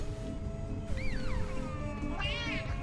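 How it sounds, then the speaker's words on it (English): A cat in the video game Deep Rock Galactic meows after being bonked, two distinct wavering cries heard over a steady game background drone. "I just bonked the cat."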